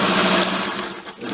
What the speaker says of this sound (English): we were using her old Singer sewing machine, which, even though it's old, sews amazing